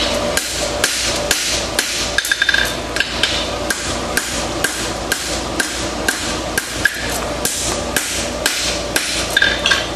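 A farrier hammers a horseshoe to flatten its inside edge, a loud rapid run of metallic strikes in an even rhythm, with an anvil ring behind each blow and no talk.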